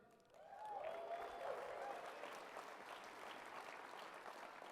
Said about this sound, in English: Big round of applause for production.